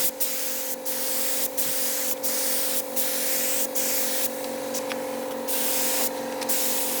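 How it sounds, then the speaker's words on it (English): Spray gun laying primer onto a car trunk lid, a close, continuous airy hiss with brief pulses as the trigger is eased and squeezed, over a steady low compressor hum. "right now we're finishing on priming the trunk lid"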